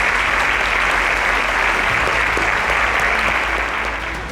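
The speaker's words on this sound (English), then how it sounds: "Round of applause." A studio audience at a televised quiz show claps loudly and continuously, a full, even wash of applause that holds steady before easing slightly near the end.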